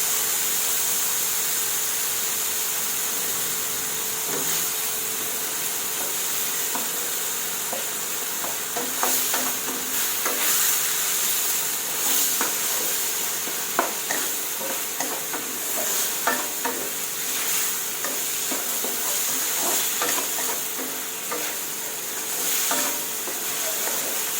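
Long beans stir-fried with Thai red chili curry paste and sugar in a pan, a steady hiss of frying with repeated scraping and clinking of the spatula against the pan, close by and without talk.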